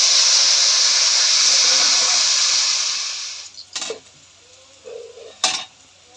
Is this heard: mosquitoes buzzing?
no